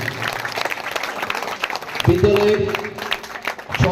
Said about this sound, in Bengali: স্যারের জন্য একবার জোরে করতালি চেয়ে নিচ্ছি সবার কাছ থেকে